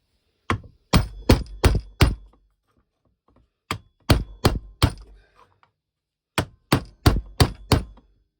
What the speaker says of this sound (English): keep tapping it on till you've got it in